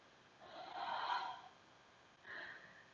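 Two deep breaths during a quad and leg stretch, a long breathy exhale followed by a shorter one, close and soft with no talking.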